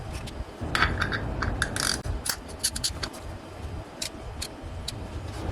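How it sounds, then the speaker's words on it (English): Oil filter wrench ratcheting and grinding against a stuck oil filter on a Blazer, with a dense run of close metallic clicks and scrapes over steady mechanical clatter, no talk. "See if one of our oil filter wrenches here get on there."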